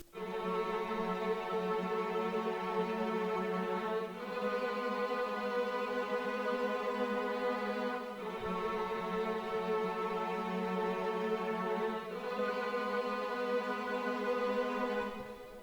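A 70s soul-style sample built from a Massive synth pad and a Sonatina Orchestra solo violin tremolo holds sustained chords, changing roughly every four seconds in a smooth, full, continuous texture.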